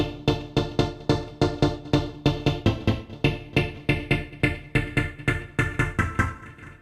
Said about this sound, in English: I'm using the 1080 with a step sound, and combined with a special effect, the 80 phaser of my SP808